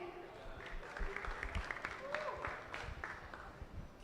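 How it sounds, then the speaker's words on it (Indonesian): Audience applause for a startup pitch at a university innovation festival demo day, a moderate spread of clapping with some voices mixed in, lasting a few seconds. "Boleh tepuk tangannya hadirin?"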